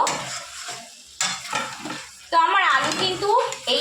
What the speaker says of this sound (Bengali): যে আলুগুলো ভেজে রেখেছিলাম আমি এই মশলার মধ্যে দিয়ে দেবো দিয়ে খানিকক্ষণ কষিয়ে নেব